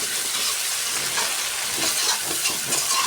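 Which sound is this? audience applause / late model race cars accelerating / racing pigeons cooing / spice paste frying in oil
spice paste frying in oil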